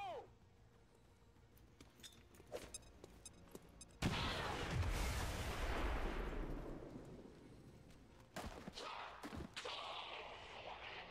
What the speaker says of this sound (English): So the explosion of the car, along with the grenade, finished both of them off.